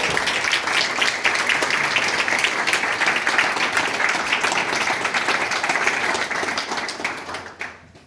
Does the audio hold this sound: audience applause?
yes